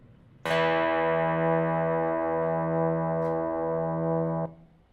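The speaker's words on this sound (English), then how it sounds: "two different notes played on a string at full length and half length" A sustained steady string tone, two pitches an octave apart sounding together from a string at full and half length, held for about four seconds and then cutting off.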